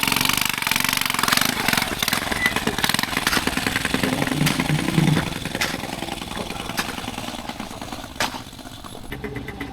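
A motorcycle of the kind used on plantations for hauling wood, its engine running with a rough, rapid chugging close by, steady and loud before easing slightly toward the end.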